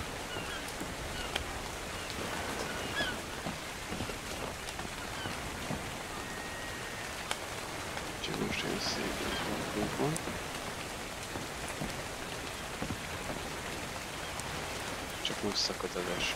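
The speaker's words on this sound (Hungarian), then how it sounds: "Csak most szakad az eső." Heavy rain pours in the video game ARK Survival Evolved, a dense, steady hiss of drops that runs evenly throughout with faint voices underneath.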